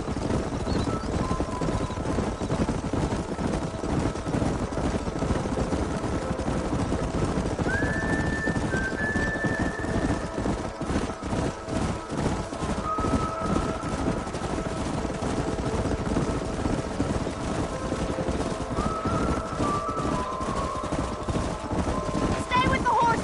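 Horses in the video game Red Dead Redemption run in a long, continuous rumble of hooves with a few whinnies rising above it, while faint voices and other game sounds sit underneath.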